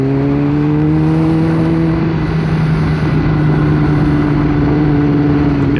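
A rebuilt motorcycle engine accelerates onto a highway, a loud, continuous close-up roar with steady rising tones and a constant rush of wind, with no voices.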